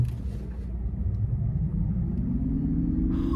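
Nissan Ariya e-Force electric SUV pulling away from a stop, a low road rumble and rising motor whine that climbs steadily in pitch, heard from inside the cabin.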